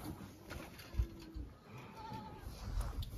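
Goats bleat a few times at a moderate distance over a muffled outdoor background on a Zimbabwean goat farm, with short calls rising above steady low rumble.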